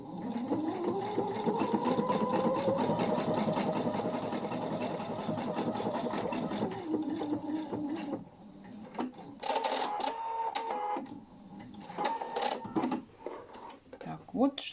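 A Pfaff Quilt Expression 720 sewing machine stitches fabric in a loud, rapid, even run for about eight seconds. Shorter bursts of stitching follow, broken by pauses, with a person speaking in between.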